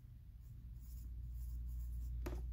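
A pen or pencil quietly writes numbers on paper, faint scratching strokes over a low steady hum, ending with one sharper tap or stroke.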